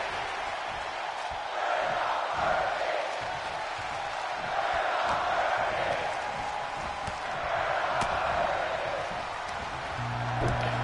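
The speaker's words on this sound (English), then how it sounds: "already this capacity crowd on their feet, showing some love, making some noise" Capacity crowd at a live pro wrestling show in Euroa, a broad roaring wash of cheering and noise in waves across the arena, heard under a commentator talking throughout.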